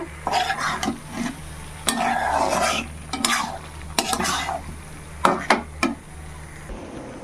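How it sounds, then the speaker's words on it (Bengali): Papaya curry stirred in a pan: repeated scraping strokes of a spoon against metal over a soft sizzle, ending in a few sharp taps, close and fairly loud. "এবার একটু নাড়াচাড়া করে নামিয়ে নেব"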